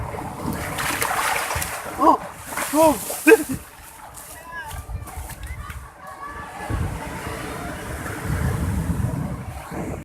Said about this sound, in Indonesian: Dengan udaranya, suara ombak.